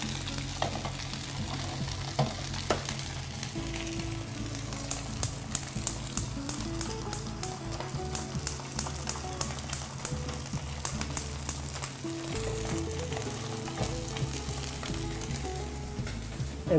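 Fish grilling on a hot surface gives a continuous, even sizzle and crackle, steady and fairly quiet, with a low background hum and no voices.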